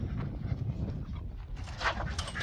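Several dogs shut in a kennel make soft whimpering noises over a steady low rumble, a close and continuous murmur with a few brighter whines near the end.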